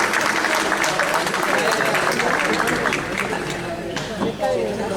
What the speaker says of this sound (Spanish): Pepe, un fuerte aplauso.